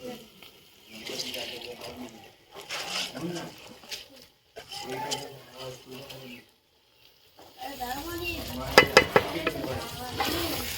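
Washed rice being stir-fried in a pot for tehari: a voice talks at first, then a close, loud burst of sizzling and scraping takes over.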